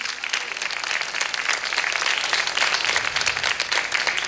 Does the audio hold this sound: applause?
yes